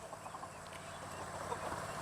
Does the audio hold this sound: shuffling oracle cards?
no